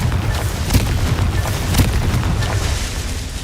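A Confringo fire spell in the video game Hogwarts Legacy bursts in a loud, rumbling explosion with crackling fiery bursts and booming low thuds rolling on for several seconds.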